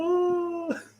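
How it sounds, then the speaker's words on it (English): A dog whines indoors with a single sustained high, tonal whimper that holds steady for most of a second, then breaks off into a short rough yelp at the end, fairly close and alone without talk. "That's my dog whining in the background"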